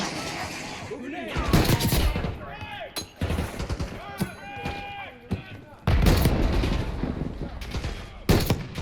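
Bursts of rapid gunfire and heavy explosions from RPG rockets and grenades in the Call of Duty Black Ops 6 campaign, loud and close, coming in clusters with short pauses, while voices shout over the combat.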